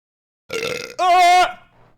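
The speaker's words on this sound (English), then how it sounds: "I have to burp." A man's close, loud burp: a rough onset that swells into a long, voiced, tonal belch lasting about a second, then fades out.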